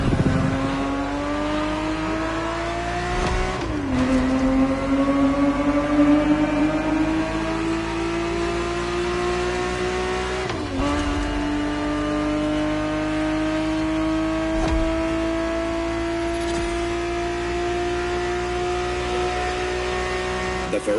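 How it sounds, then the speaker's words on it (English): A Ferrari 365 GTB4 in the racing game The Crew Motorfest, engine droning and climbing through gears with three sharp shift dips, a steady loud tone rising across the run. "The Ferrari 365 GTB4 is the perfect vehicle for you to experience Ferrari racing as it felt back in the 70s"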